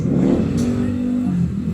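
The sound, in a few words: Honda TMX 155 motorcycle engine revving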